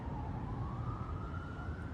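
A police car siren wails in the distance of a Houston neighborhood, a steady tone slowly rising in pitch over low traffic rumble, with no talking.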